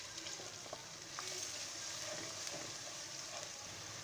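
Onions frying in oil in a karahi give a steady, fairly quiet sizzle with small pops and occasional stirring scrapes, heard alone without talk.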